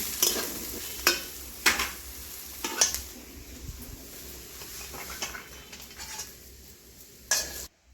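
Vegetables for a village-style banana flower curry fry in a pan and are stirred, giving a continuous close sizzle broken by several sharp scraping clacks of the utensil against the pan, with no talk.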